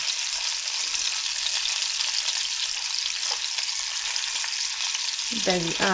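Bacon frying in a pan for a quick breakfast, a steady close sizzle and crackle with a brief stir or scrape near the end, no voices.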